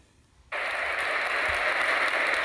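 A round of applause for a new club member called up to the front bursts in suddenly after a brief hush and holds steady as dense, continuous clapping from a group, with no speech over it.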